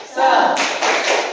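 Students in an Indonesian classroom perform the rhythmic "tepuk semangat" clapping chant, a quick burst of sharp claps, loud and close, with voices mixed in.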